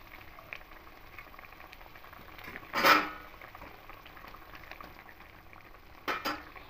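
Mustard fish curry gravy with small rohu simmers quietly in a pan, a soft steady bubbling, then a brief louder splash-and-sizzle burst as the fish pieces go in, and a couple of short clatters near the end.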